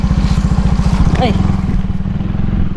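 A motorcycle engine idles and revs close by in a steady, rapid putter, with a brief voice heard over it for a moment.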